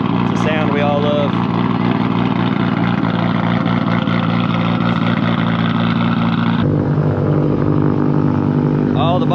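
A Subaru boxer engine, from a big-turbo STI or sleeper WRX, rumbles close by with a deep, uneven burble that drops in tone partway through while someone speaks over it.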